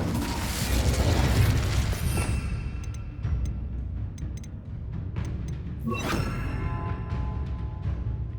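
Incendio fire spell blasts in the video game Hogwarts Legacy: a dense roar of booming magical bursts, then a burst of crackling impacts over a steady rumble of game ambience, loud and close.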